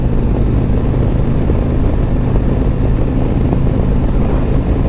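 A Harley-Davidson Road Glide 3 trike being ridden, a loud steady rumble of engine and wind noise throughout, with no pauses.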